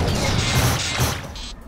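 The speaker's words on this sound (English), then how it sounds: "Doubled explosions in!" Chunky explosion effects from the online tactics game Atlas Reactor, with a couple of heavy booming crashes in quick succession and crackling debris, ending in a brief synthetic whoosh; loud and up front with no voice on top.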